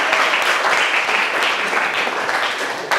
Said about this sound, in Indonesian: berikan tepuk tangannya anak-anak